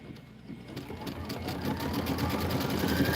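A quilting sewing machine runs steadily at around 800 stitches per minute, a close, continuous rapid mechanical whir and clatter that builds slightly in loudness without any voices.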